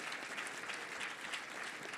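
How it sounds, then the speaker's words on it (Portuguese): Dense applause from a crowd of evangelical supporters at a political rally for a senator, a continuous even roar of many hands clapping throughout, moderately loud. "salva de palmas para o senador Randolph nesse momento"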